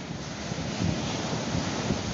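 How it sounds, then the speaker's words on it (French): Ocean surf rolling and breaking on a shore at night, a steady broadband wash with surges, heavy wind buffeting the microphone throughout, no voices. "Vous voyez les vagues là"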